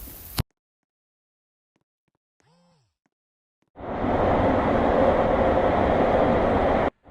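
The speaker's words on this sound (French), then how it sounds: "Je vais prendre le métro." A subway metro train runs with a loud, steady rumble and hiss for about three seconds after a quiet stretch holding a faint, brief tone.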